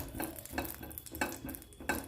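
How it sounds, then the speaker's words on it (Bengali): Dried red chillies and bay leaves hit hot oil in a kadai for tempering, giving a soft close sizzle punctuated by several scraping stirs of a spoon against the pan. "ওই তেলের মধ্যে আমি শুকনো লঙ্কা আর তেজপাতা ফোড়ন দিয়ে দিলাম"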